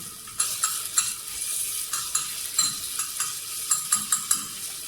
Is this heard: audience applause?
no